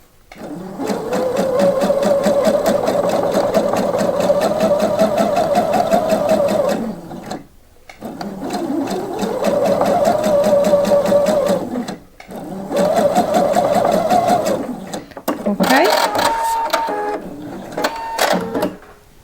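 A sewing machine topstitches a blouse, whirring in three long steady runs with brief stops between them, then short bursts and clicks at the end, loud and close.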